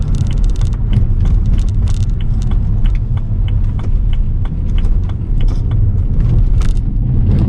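A stage 1 tuned BMW 335i drives along the road, its engine and road noise forming a steady loud rumble from inside the cabin, with light rattles and ticks over the drone.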